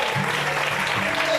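Church congregation applauds in a brief, steady wash of clapping, fairly loud and continuous.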